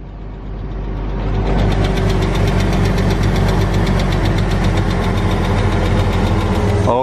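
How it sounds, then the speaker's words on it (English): An auction Porsche Boxster that has sat unused idles loud and close after start-up, with a fast light ticking running through the steady engine hum and no talk over it. "I do hear a little ticking noise"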